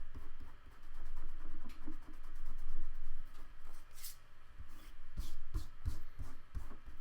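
Fingers rub damp paper off an image transfer in a journal, making soft, irregular scratchy scrubbing strokes with some brief taps, close and quiet.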